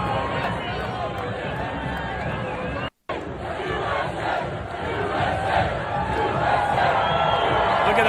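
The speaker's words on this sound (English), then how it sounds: "Just look at those crowds in Seattle last night." Big crowds of soccer fans gather in Seattle before a national team match, a loud, dense roar of shouting, chanting and cheering that swells slightly toward the end, with a brief dropout near the middle.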